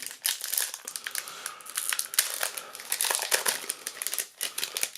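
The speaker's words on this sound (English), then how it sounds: "These packs are really frustrating to open" Plastic wrappers of Magic: The Gathering Dragons of Tarkir booster packs crinkle and crackle as they are torn open, a close, continuous rustling with sharp bursts throughout and no talking.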